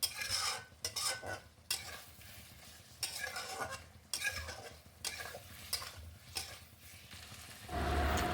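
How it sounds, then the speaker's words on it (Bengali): Potato curry (Bengali vegetarian aloo dum) with sugar is stirred in a wok, a spatula scraping the pan in repeated close, uneven strokes over a faint sizzle. "চিনি দিয়ে হালকা করে নাড়তে থাকবো, ভালো করে নেড়ে নেব যাতে নিচে কড়াই নিচে না বসে যায়।"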